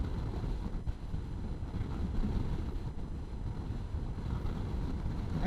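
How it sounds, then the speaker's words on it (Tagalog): Strong wind buffets a motorcycle during a solo ride on a Mindoro loop, a continuous loud rumbling roar with gusty surges and no break throughout. "Sinasampal yung motor ko ng hangin ah, grabe."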